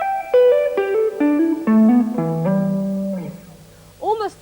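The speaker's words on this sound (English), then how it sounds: "this is called a hammer-on, like this" Electric guitar hammer-ons in a heavy metal style: a quick run of clean single notes, each new pitch sounded by the fretting finger without a fresh pick, stepping downward, with a brief voice near the end.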